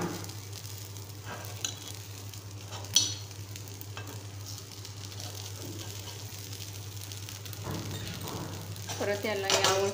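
Mixed dal appe fry in an appe pan, a low even sizzle with occasional clinks and scrapes as the dumplings are turned, a faint steady hum underneath and a busier rattle near the end.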